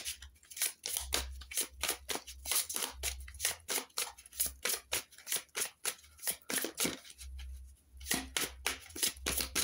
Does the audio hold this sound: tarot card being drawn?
yes